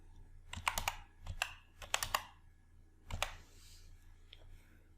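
Computer keyboard keys are tapped in a few quick clusters of close, crisp clicks with short gaps between bursts, quiet room around them and no voices.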